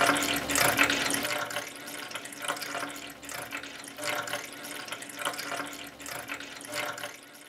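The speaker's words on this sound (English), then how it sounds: "We carefully fill the tub with room temperature water." Room-temperature water pours steadily into a tub standing in for the ocean in a classroom ocean-currents demonstration, a continuous close splashing flow with small surges and no talk.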